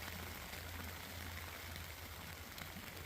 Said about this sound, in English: And now the rain is showing up.